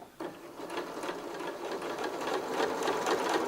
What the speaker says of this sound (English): And then keep on sewing.